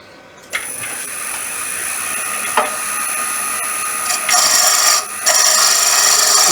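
A lathe tool turns a wooden whistle, a steady high whirring hiss broken by a few sharp cuts, louder and brighter near the end, with no voices.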